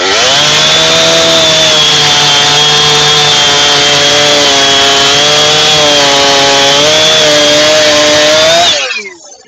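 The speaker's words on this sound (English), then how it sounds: "Oh, it's the father of the other one. Home chainsaw." A chainsaw runs loud and close, its engine whining steadily as it bites through wood, then cuts off abruptly at the end.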